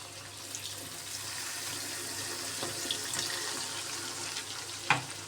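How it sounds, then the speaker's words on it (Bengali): Water poured from close by into a pan of spice paste for a light hilsa fish curry with potato and eggplant, a steady splashing pour running throughout with a brief sharper splash near the end. "তো এখন সামান্য একটু জল দিয়ে দিব।"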